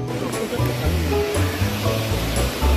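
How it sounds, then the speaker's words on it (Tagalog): Shiraisu Falls in Hokkaido, a broad, loud waterfall roar with steady rushing water close by, while people talk over it. "there's the waterfalls"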